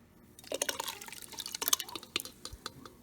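Water pours and splashes into a cooking pot of yam pepper soup for a few seconds, with irregular dripping and gurgling, fairly quiet and close.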